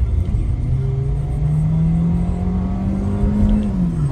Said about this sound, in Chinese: 来，我们试试看它的加速啊。